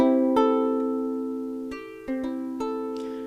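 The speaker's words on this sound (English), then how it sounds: "I'll just strum you some open string." Open guitar strings are strummed a few inches from a microphone, a handful of ringing strums in slow succession, close and clear with no talking.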